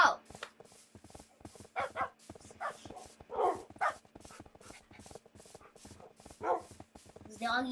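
Dogs in a Minecraft race bark and yip repeatedly amid rapid clicking game sounds, while a person talks over the busy, fairly quiet mix.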